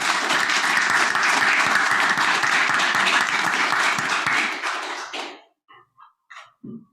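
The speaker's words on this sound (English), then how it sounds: "why don't you give yourself all a big round of applause" Audience applause at a tourism trails presentation, steady dense clapping for about five seconds that fades out, followed by a few scattered claps.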